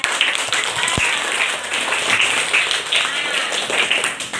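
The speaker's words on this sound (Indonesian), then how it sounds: "Tepuk tangan dulu untuk anak-anak hebat." Schoolchildren clap together in an Indonesian classroom, a dense, steady patter of many small hands that carries on throughout, with voices mixed in underneath.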